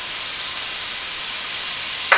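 Mushrooms and garlic sizzle in a hot pan alongside bacon, a steady close frying hiss that holds evenly throughout, with a brief clatter at the very end and no voices.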